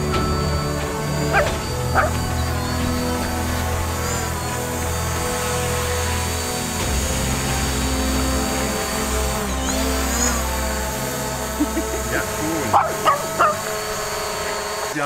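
A dog barks and yips several times over a loud, steady droning hum of a drone, with a few whimpers toward the end.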